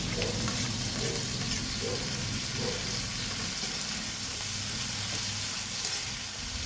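Ampalaya (bitter gourd) fries in a pan with a loud, dense, unbroken sizzle while being stirred, with faint periodic scraping beneath the hiss.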